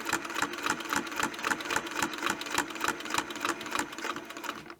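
Westalee ruler-work quilting on a domestic sewing machine, a steady, fast needle clatter with regular rhythmic beats, close and unbroken, fading slightly at the end with no voices.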